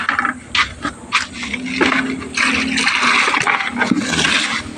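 Water poured into a dry sand and cement mix for a dry pack, heard as scraping, splashing and gurgling pours, close and fairly loud, with several knocks at the start.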